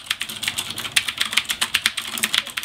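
Quick, steady typing on a Rosewill RK-9000BR mechanical keyboard with Cherry MX Brown switches produces a close run of soft tactile clacks in an uneven rhythm, with no talking.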